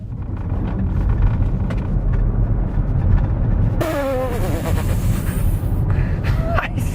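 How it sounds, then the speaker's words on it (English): Ford Mustang Mach-E GT electric car pulling away hard from a stop on a straight road, a steady loud whoosh of road and wind noise throughout with a rising whine partway through. "on a straight bit of road, foot down, hard on the brake, let go"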